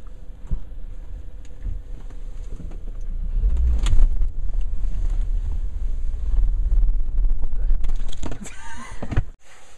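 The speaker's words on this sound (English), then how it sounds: "This stalling of the car occurs when you release the clutch too fast." A manual car lurches and stalls after the clutch is released too fast: a low engine rumble rises, shudders and then cuts out abruptly, followed by faint cabin rustle.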